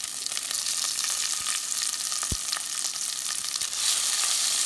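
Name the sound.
carrot, green chilies and capsicum frying for semiya upma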